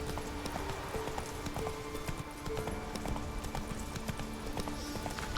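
Steady galloping hoofbeats of the horse Roach in the video game The Witcher 3, a quick, even clip-clop rhythm that holds throughout against background game ambience, with no talk.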